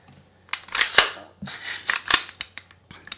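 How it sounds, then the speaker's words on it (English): A rifle's action worked by hand during clearing in close ASMR style, giving a series of sharp metallic clicks and sliding scrapes, several distinct snaps over a few seconds, near and fairly crisp with no talking. "let's make sure that this rifle is safe, cleared, and empty before we even use it"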